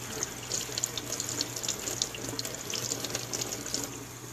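Makeup brushes rinsed under a running tap at a sink: a steady, close rush of water splashing continuously with small spattering variations throughout, no voices.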